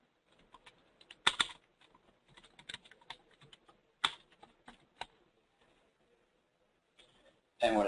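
Someone types a new security right name on a computer keyboard, with scattered clicks and taps in short bursts and a louder keystroke at the end.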